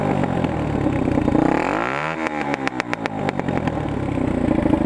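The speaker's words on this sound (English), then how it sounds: "So it does pop a lot with the Yoshimura exhaust, even with the baffle in." Derbi Senda 125cc citycross motorcycle fitted with a Yoshimura exhaust, engine revving up and dropping back with a burst of sharp pops and crackles from the pipe, close by.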